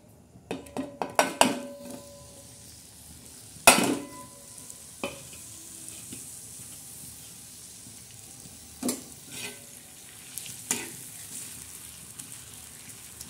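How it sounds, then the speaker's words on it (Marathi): Ground dried Bombay duck chutney fries in oil in a pan: a few spoon clinks and scrapes against the vessel at first, then a soft, low sizzle with occasional stirring knocks. "आता बोंबलाची चटणी आपण एकदम मस्त खमंग अशी तळणार आहोत"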